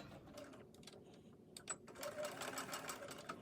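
Home sewing machine stitching back and forth on a fabric face mask, a close, quiet whirring run of rapid needle strokes that picks up speed partway through, no talk.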